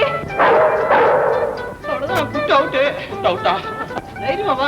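A small dog yips and barks excitedly in quick bursts, close by, while people talk loudly over it.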